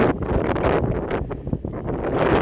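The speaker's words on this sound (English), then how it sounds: "The wind isn't causing too much trouble with the mic." Gusty wind buffets a microphone outdoors, a rough, fluctuating low rumble that stays loud and continuous from start to finish with no other sounds standing out.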